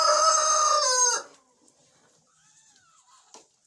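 A rooster in a farmyard henhouse lets out one loud, close crow that breaks off after about a second, leaving near silence with a faint bird chirp near the end.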